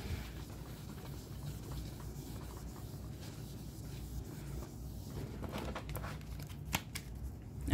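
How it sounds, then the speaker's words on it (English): Soft, continuous riffling and papery rubbing of playing cards being shuffled close by, with a few sharper flicks near the end; no talking. "go ahead and shuffle our cards back up, put them back in the deck"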